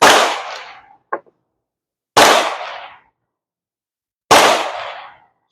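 A Mauser Model 71 rifle fires three loud, sharp shots outdoors at roughly two-second intervals, each with a decaying echo and silence between, and a brief metallic click after the first.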